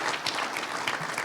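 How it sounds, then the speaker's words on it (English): Audience applause for students who performed at an arts and culture summit at Stockton University in Atlantic City, a steady dense clapping from a crowd that fills the short moment without any voices. "Let's give them another round of applause."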